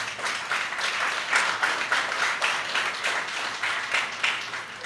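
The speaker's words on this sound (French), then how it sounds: "je vous demande d'applaudir" An assembly at an International Francophonie Day celebration claps steadily for a widow being honoured, dense and even applause of a sizable crowd lasting several seconds with no talking.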